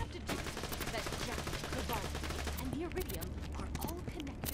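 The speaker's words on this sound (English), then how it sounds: "I like the fire rate this pistol get." Rapid pistol fire from the video game Borderlands 2 rattles in a dense, continuous stream of sharp shots, with a game soundtrack and effects layered underneath.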